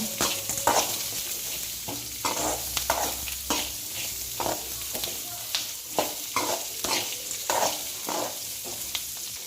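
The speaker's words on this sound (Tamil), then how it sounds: "எல்லாமே நல்லா வதங்கி வர்ற அளவுக்கு நல்லா வதக்கிக்கலாம்" Ginger and other ingredients sautéing in a pan for Chettinad pirandai thuvayal, a continuous sizzle punctuated by regular stirring scrapes roughly every half second to a second, close and moderately loud, with no speech.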